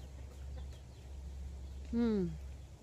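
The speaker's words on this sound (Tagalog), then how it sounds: "Ang babaerong tandang." A rooster lets out a single loud cluck-like call near the end, rising out of a quiet outdoor farmyard with a low steady hum beneath.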